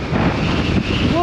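Storm Ashley's strong wind batters a motorcycle rider, roaring as a loud, steady rush of buffeting noise against the helmet, with a voice faintly under it.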